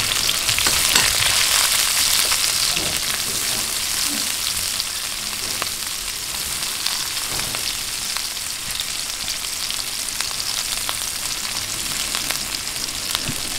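Onion sautés in hot oil in a pan with a steady, bright sizzle and crackle, fairly loud and close. Faint stirring scrapes are heard now and then, and nobody talks.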